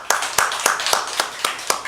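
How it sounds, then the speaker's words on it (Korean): Church congregation clapping during a Sunday sermon, a brisk, evenly spaced rhythm of about four sharp claps per second, close and fairly loud. "그 야곱에게 박수 한번 쳐드릴까요?"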